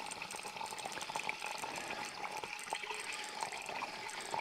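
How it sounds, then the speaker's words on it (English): Fresh cider begins flowing from a tap at an outdoor woodyard, a soft steady trickle and splash with faint bubbling, close and quiet with no talk. "Just jiggle that a little until it starts flowing."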